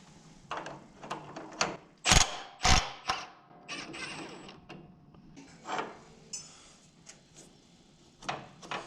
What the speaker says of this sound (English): gonna go ahead and try to get this pulley off of there now that there's no tension